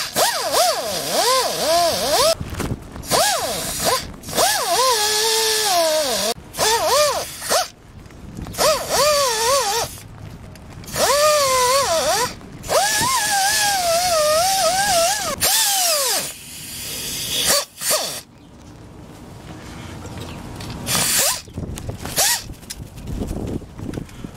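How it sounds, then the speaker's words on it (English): A pneumatic die grinder with a wire wheel cleans a brake rotor on a 1993 Subaru Sambar, giving a loud, high whine that rises and falls in repeated bursts, with short pauses between runs and a gritty scrubbing edge. "I'm going to use my wire wheel. My pneumatic wire wheel. My die grinder"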